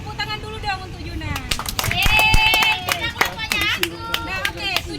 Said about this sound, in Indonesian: Tepuk tangan dulu dong untuk Juna.